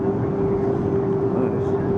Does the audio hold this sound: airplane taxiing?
yes